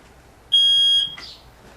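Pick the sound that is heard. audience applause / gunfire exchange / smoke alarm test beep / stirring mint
smoke alarm test beep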